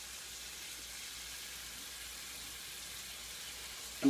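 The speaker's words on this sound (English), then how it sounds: "you hear all the sizzling of the jam coming out" Jam sizzling as it cooks out of a crusted wrapped dish in a hot frying pan, a steady, even hiss with no talk over it.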